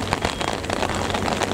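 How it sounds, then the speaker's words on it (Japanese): Steady rain falling on a fishing harbour during a storm, a dense continuous hiss of drops close by with no gaps, fairly loud and even throughout. "大変ですね、雨が降っててですね"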